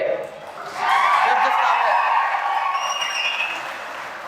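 An audience claps together in a hall during a motivational talk, a dense burst of applause that swells after a quiet lead-in and holds steadily, with a few chuckles mixed in.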